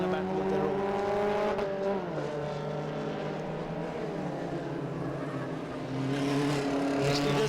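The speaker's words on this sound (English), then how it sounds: "Saran Vikram looks to overtake Raghu." Race cars roar around the track at a JK Tyre national racing event, with steady loud engine drones that shift pitch as they pass, and a commentator talking over them.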